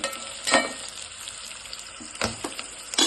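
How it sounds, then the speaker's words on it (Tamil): Onions sauté in a pan for coconut milk rice, a low continuous frying hiss broken by a few louder stirring scrapes and clatters, close by and with no speech. "வெங்காயம் நல்லா வதங்கிட்டோம்"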